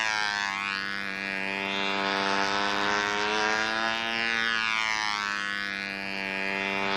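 A KV40 model airplane engine buzzes at high pitch on a control-line Brodak Cardinal, its whine swelling and fading as the plane circles past, steady and fairly distant.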